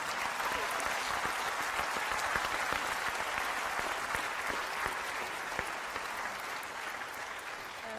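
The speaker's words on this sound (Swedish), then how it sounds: "Applåd!" An audience at the Göteborg Film Festival opening gala claps steadily in a large hall, a dense, even wash of applause with no speech over it.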